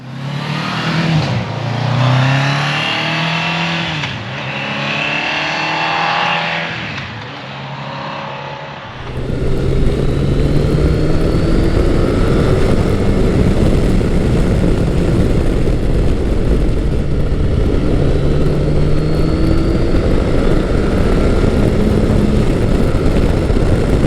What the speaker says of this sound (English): I'm currently riding Kawasaki's 1994 Concours 1000, or GTR 1000 as it's called in Europe.